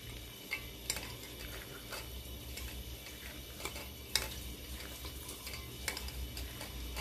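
Sliced onions are squeezed and mixed by hand for onion pakoras in Punjabi home cooking: faint, soft rustling with scattered small clicks and taps against a quiet background, no talking.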